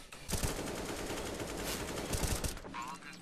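Rapid gunfire in the shooter game CS:GO, a dense burst of shots lasting about three seconds, loud and close, with a few sharper reports standing out.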